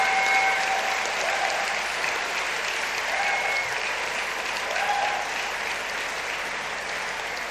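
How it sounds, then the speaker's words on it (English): A graduation audience gives a steady, full round of applause, many hands clapping evenly throughout a large hall, with a few faint tonal chirps drifting over the crowd. "So I think we should have a hand round of applause for all of this and the diversity."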